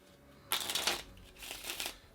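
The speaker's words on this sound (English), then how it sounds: "And mix it on up and give it a good shuffle." Two quick riffle shuffles of a deck of playing cards, a crisp flutter of snapping cards heard up close with nobody talking.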